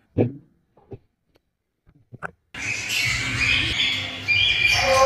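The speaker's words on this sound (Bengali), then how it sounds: "আফ্রিকান ধূসর তোতা পাখি।" An African grey parrot at Kathgola Palace in Murshidabad gives a few short, scattered calls and clicks, then a dense, sustained burst of harsh squawking and chatter, fairly close.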